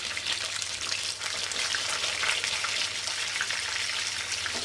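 Chicken fries in a pan at home, giving a steady, bright sizzle of spattering oil that crackles continuously and fairly close, with no voices.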